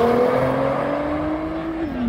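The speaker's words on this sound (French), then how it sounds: "GTR Nismo. Une GTR qui part, une autre qui n'arrive." Nissan GTR Nismo sports car accelerating away at a supercar meeting, a loud engine note climbing steadily in pitch then dropping at a gear change.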